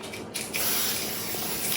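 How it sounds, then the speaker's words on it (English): A can of edible copper spray hisses onto a cake in a short, close, steady burst after a brief pause, with no voices. "So this is a copper spray,"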